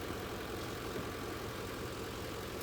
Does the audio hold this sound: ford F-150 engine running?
yes